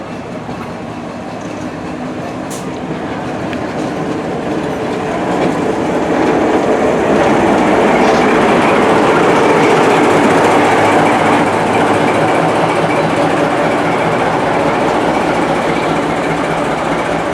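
Empty carriage stock on a heritage railway rolls past at Tenterden Town station, heading down to Northiam: a steady, close rumble of carriages that swells louder partway through and stays full to the end, with no talk.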